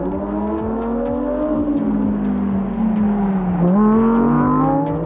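A Lamborghini driving around the Bahrain F1 track, its engine loud and close with rising revs, gear changes and a downshift before it accelerates hard again.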